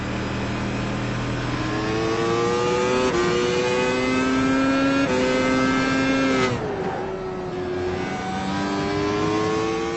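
A race car engine in the PC sim iRacing revs through rising gear pulls, drops briefly on a shift or lift, then climbs again, loud and steady throughout.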